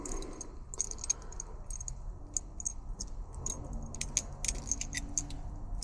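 A ratchet works on a battery terminal of a 1968 Corvette, making quiet, close, rapid metallic clicks in irregular bursts with a faint jangle.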